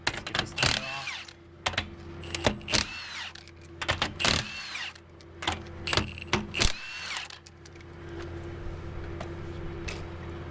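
A power tool, such as an impact wrench, works at a tire on a Nissan Quest in bursts, several sharp whirring and rattling spurts separated by pauses over a low steady hum, close and fairly loud.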